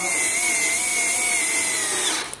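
A steady, loud, high-pitched whine from a power screwdriver driving in screws on an IKEA Renberget chair, running continuously for a couple of seconds before cutting off at the end.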